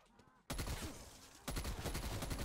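Submachine gun bursts in the Call of Duty Black Ops Cold War zombies mode, two dense rapid-fire volleys of loud crackling shots, the first starting abruptly after a quiet moment and the second following about a second later.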